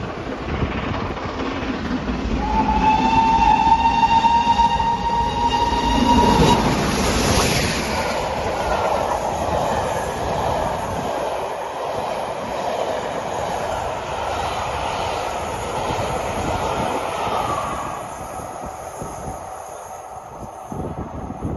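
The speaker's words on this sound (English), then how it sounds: "let's blow the cobwebs out with a lovely shot of the special coming through Dawlish, taken by Andy." A special train rumbles past close by at Dawlish with a long steady roar, its horn sounding early on, while sea surf washes in the background.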